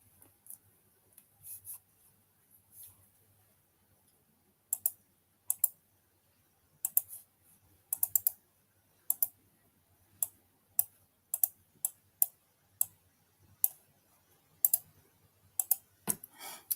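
Keys on a computer keyboard are pressed in short, separate clicks and small bursts, close and fairly crisp against a quiet background, with no talking.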